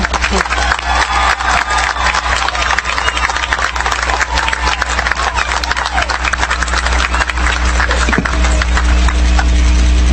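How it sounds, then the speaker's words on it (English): A large commencement audience at the 2013 CBU graduation gives sustained, dense applause for School of Arts graduates, a continuous roar of many hands clapping with some cheering, loud and close throughout. "Please give a round of applause for all of the graduates from the School of Arts."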